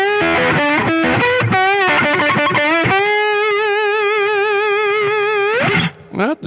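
Electric guitar played with a slide on the middle pickup, gliding notes and a wide wavering vibrato on a long sustained tone, loud and slightly distorted, with no talking.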